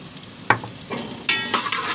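Finely chopped onion drops into hot oil and fries, with sharp sizzling bursts and stirring scrapes, close and clear, and no one speaking.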